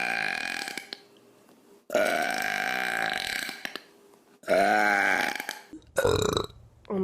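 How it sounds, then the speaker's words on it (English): Four loud, drawn-out burps come one after another, each belch long and resonant with brief quiet gaps between them. No talking is heard. "burping is fun."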